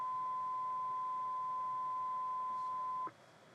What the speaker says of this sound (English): You can press either start single tones or continuous tones.